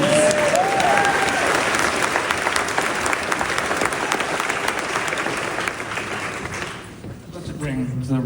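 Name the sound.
audience applause for director Luca Guadagnino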